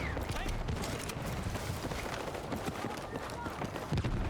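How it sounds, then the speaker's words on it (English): Footsteps run in the Battlefield 6 multiplayer Breakthrough mode, a dense rapid patter of steps heard up close and loud amid busy game noise, with no speech. "I hear footsteps and they're not gonna be friendly."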